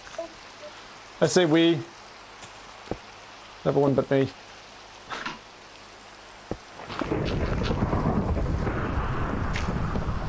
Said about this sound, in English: It's a little bit rainy.